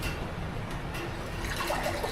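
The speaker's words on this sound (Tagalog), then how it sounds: "lagyan lang natin siya ng konting tubig" A small amount of water is poured into crushed food for a spicy dish, giving a soft, steady trickle and splash that runs close and moderately quiet throughout, with no talk.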